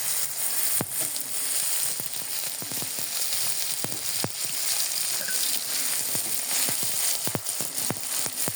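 Onions frying in oil in a pan make a dense, continuous crackling sizzle, punctuated by frequent sharp pops and spatters that spring up irregularly throughout.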